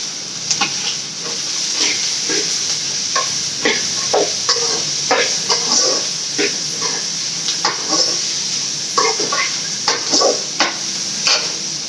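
Carrots and vegetables stir-fried in a pan for paneer fried rice, a steady sizzling hiss with repeated scraping stirs in irregular bursts, close and fairly loud, no talking.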